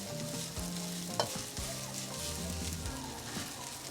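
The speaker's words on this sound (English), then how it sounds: "So I mix it around. So right now I'm just gonna spread the rice around as much as I can" Beef fried rice sizzles steadily in a pan while a utensil scrapes and pushes it around, with one sharp clack of metal against the pan; close-up and without voices.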